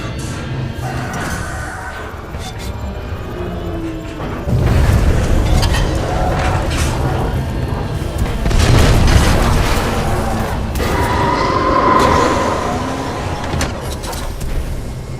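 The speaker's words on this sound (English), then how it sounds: "a series of explosions just weakened the manipulator arm" Heavy booming blasts and crashing debris in the video game Titanfall 2 roll on continuously, loud and dense, with rumbling low impacts and metallic clatter throughout.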